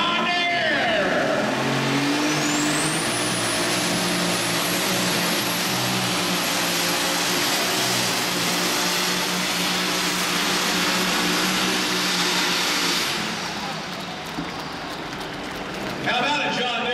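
A John Deere 6,400 lb lightweight super stock alcohol pulling tractor engine screams at full throttle on a pull, a loud, sustained high-revving roar with a rising whine, then the engine drops off near the end.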